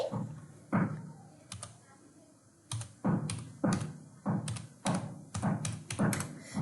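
Someone types a phone number on a computer keyboard, with short irregular bursts of close keystrokes and brief pauses between groups of taps.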